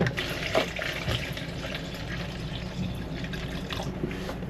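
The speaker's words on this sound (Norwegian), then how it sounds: "Så er det bare å fylle opp med litt vann." Water runs steadily as a container is filled aboard a sailing boat at sea, a soft continuous trickle and splash with faint clinks, fairly quiet and close, no talking.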